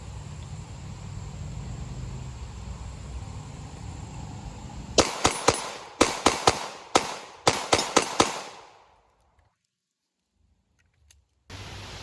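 Shots from a SIG concealed carry pistol at a shooting session, about eight sharp, loud reports in an uneven string over a few seconds, with steady wind noise before them and near silence afterward.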